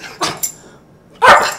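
A pet dog barking on command during a treat-rewarded trick session indoors: two short close yips, a pause, then one louder fuller bark, with no talking over them.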